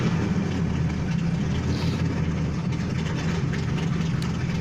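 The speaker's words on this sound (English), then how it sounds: "Rev her up a little bit, not too much," An old barn-find car engine idles low and steady after a light rev while still warming up, a close continuous rumble with no talking.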